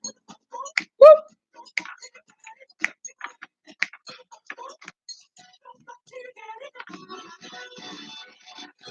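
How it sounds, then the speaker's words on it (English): Typing on a computer keyboard in a radio studio, scattered sharp key clicks in irregular bursts, close and moderately loud, followed by a denser stretch of quieter tapping. "Are you typing something?"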